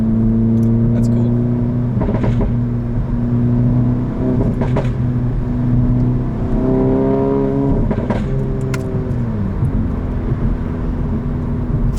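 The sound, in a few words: exhaust pops on downshift from APR Stage 2 VW GTI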